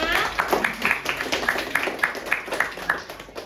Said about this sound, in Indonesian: Beri tepuk tangan buat kalian semua.